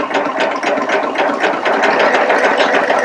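A Baby Lock Applaud cover stitch serger runs continuously as it sews a ribbon insert, with a close, loud, steady mechanical whirr and rapid needle clatter.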